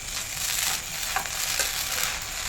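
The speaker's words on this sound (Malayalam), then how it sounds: "നെയ്യോട് ഇട്ട് നമുക്ക് നല്ലപോലെ മിക്സ് ചെയ്ത് കൊടുക്കാം" Idli upma stirred with ghee in a pan, a close sizzling hiss with scraping stir strokes and a few soft clicks of the spoon.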